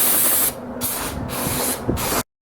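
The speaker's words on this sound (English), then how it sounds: "So get it off with brake cleaner." Brake cleaner sprayed from an aerosol can onto a Kawasaki KZ400 motorcycle frame, three close bursts of loud hissing spray with short gaps, ending abruptly.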